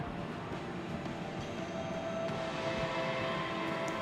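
A crew lift rises aboard a ship in the space game Star Citizen, with a steady mechanical hum and rumble, a faint tonal whine and a few soft clunks, no voices.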